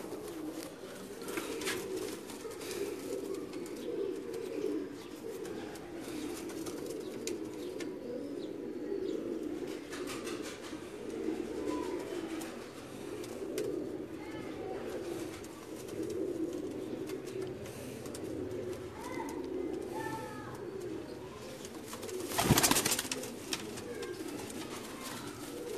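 Pigeons coo softly and continuously in a quiet home setting, low rolling calls repeating throughout, with faint chirps, occasional wing flaps and a brief louder burst near the end.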